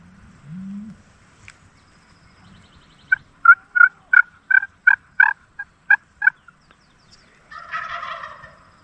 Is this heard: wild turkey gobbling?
yes